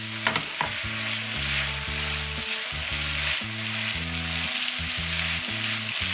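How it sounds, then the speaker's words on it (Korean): Leftover japchae stir-fries with chili oil in a pan, giving a steady, close sizzle with faint stirring. A melodic tune plays throughout in the background. "다음 고추기름을 넣고 한번 볶아주세요."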